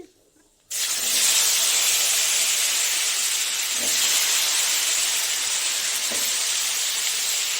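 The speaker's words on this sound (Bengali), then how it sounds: "মাছ ভাজার তেলেই আমি আবার রান্নাটা করছি একটু আলু জিরা ফোড়ন দিয়ে দিলাম" Potatoes with a cumin tempering hit fish-frying oil after a brief quiet moment, bursting into a loud, steady hissing sizzle that carries on evenly to the end.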